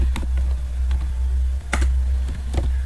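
Quick clacking keystrokes on a computer keyboard, irregular taps close up over a loud steady low hum, with no voices.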